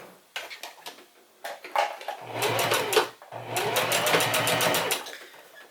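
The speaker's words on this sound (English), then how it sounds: "we want to sew the facing and the shield together at the bottom so they don't flip open like this in the garment" Sewing machine stitching a zipper facing and shield together, starting with short stuttering bursts and then running in two longer rapid whirring runs split by a brief pause.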